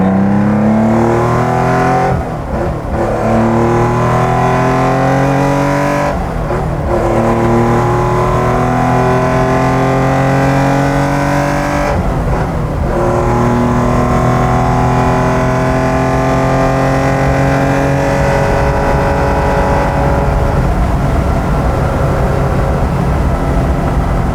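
A 1970 Porsche 914-6 GT flat-six engine revs hard on a test drive, climbing steadily in pitch through the gears with brief dips at shifts, loud and close throughout with no talk.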